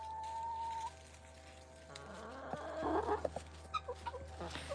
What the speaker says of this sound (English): listen to that little rooster. He tries hard.